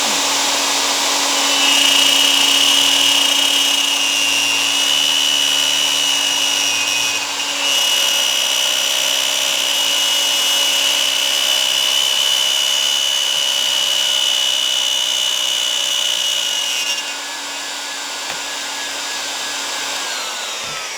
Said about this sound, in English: I'm actually cutting a 1/2 inch deep with a 1/4 inch diameter bit